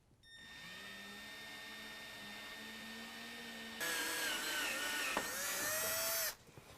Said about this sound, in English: Now I'm going to drill my pilot hole.